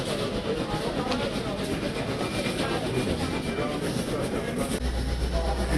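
A Kolkata metro train runs through the tunnel beneath the river near Howrah, a constant dense rumble and rattle of wheels on rails that fills the carriage evenly without letting up.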